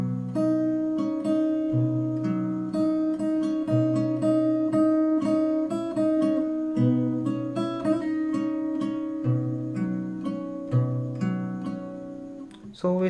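Solo fingerstyle acoustic guitar plays the verse melody of a Hindi song, with plucked notes over a low bass line in a steady, moderate rhythm, close and clear.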